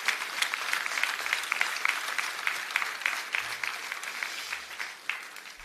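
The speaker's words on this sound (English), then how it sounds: "we must give a very big hand to all of them" At a High Court Bar Association installation ceremony in Nagpur, an audience gives a hearty round of applause, dense rhythmic clapping that stays strong before gradually thinning out.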